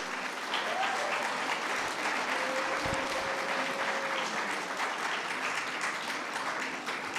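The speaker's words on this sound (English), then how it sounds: "Ladies and gentlemen, can we have one big round of applause for the" A large audience at an awards event gives sustained, dense applause that holds steady at full volume throughout, with a faint tone briefly sounding over the clapping.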